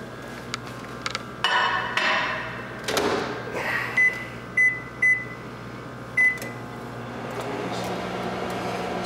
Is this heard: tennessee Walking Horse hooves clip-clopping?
no